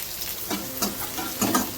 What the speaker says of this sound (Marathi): बारीक चिरलेला कांदा घालत आहे.